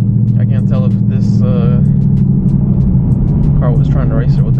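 A car revs and rumbles past on a city street, a loud low engine drone lasting throughout, with someone talking over it.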